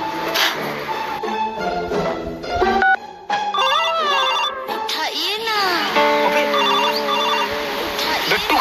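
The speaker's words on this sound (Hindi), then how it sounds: "अरे विकास को कॉल लगी," A phone rings with a melodic electronic ringtone, loud and close, mixed with voices and background noise.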